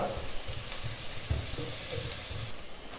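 Sliced onions and slit green chillies sautéing in a pan for a chickpea curry, a steady low sizzle with soft stirring scrapes and occasional clinks throughout, close and moderately quiet with no talking.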